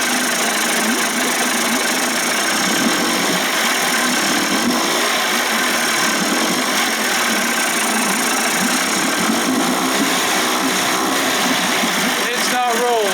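A Johnson 25 hp outboard motor runs steadily with its carb held slightly open, a loud continuous mid-pitched engine drone throughout, with talk over it.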